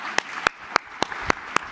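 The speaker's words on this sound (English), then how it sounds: "So please, let's give another round of applause to Chairman DeFazio" A few people clap in steady, sparse claps for Chairman DeFazio at a transportation policy event, six distinct claps spaced evenly and fairly close, with a thin room hush behind.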